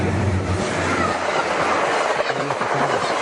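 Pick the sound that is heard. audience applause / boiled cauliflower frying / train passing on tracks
train passing on tracks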